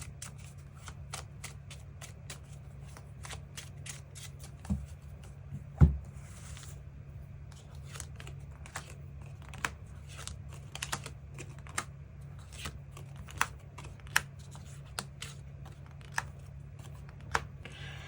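Tarot cards shuffled and drawn by hand, a long run of crisp riffling flicks and taps at a fairly even pace, close and clear over a quiet room hum, with no voice.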